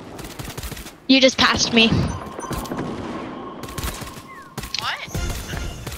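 Gunfire in the video game Hunt, with a loud burst of shots and sharp reports near the start, then scattered fainter shots while players talk throughout.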